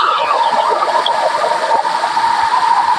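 Steady, loud rushing water fills the clip, a continuous broadband roar with no breaks, like a nearby stream or gushing outflow.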